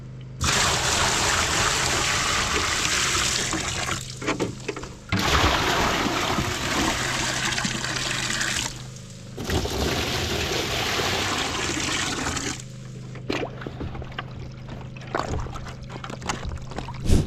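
Water recirculating through a Gold Hog Z3 sluice into bin-in-bin tubs, driven by a pump: a steady broadband rush and splash in several long stretches broken by brief pauses, with a low pump hum running underneath and no talk.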